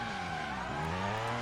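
Car drifting in the video game Driver: San Francisco, a steady engine drone with layered harmonic tones holding through a short stretch, fairly quiet and with no one talking.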